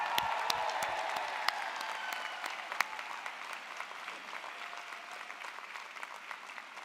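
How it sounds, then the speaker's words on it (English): Medical school graduates at a spring commencement clap loudly together, a dense burst of applause that slowly thins and fades over several seconds. "Give yourself a round of applause."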